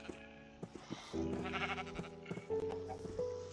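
Blocky sheep in the video game Minecraft bleat in several short, nasal calls, some overlapping and held longer, close and clear over a quiet background with no talking.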